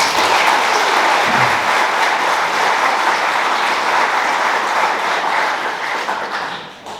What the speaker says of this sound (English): I'd just like to call for a round of applause for Fred.